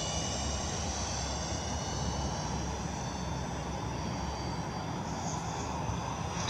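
A Freewing MiG-21 radio-controlled model jet whines steadily as it flies past at a New Zealand airfield, a constant, fairly loud rushing hum with a slight rising tone near the end and no talk.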